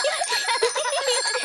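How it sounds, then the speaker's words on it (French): A bicycle bell rings in a Peppa Pig cartoon, a bright metallic tinkle repeated rapidly over about a second and a half, steady and fairly loud, with cartoon music or tones faintly beneath. "Pouvez-vous nous montrer que vous savez faire marcher votre sonnette?"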